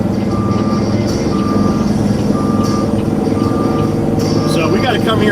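A truck's reversing alarm beeps steadily in a regular repeating rhythm, loud and close, over a running engine, while people talk over it.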